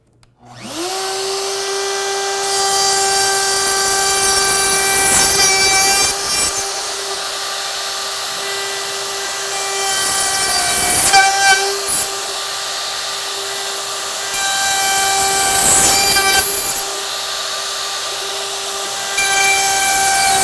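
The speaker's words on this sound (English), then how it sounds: "Now I'm ready to take my straight bit again and route away those pins I've just marked." A router with a straight bit spins up to a loud steady whine, then cuts through wood in several rough, grinding passes while routing away dovetail pins in a wide panel, close and alone.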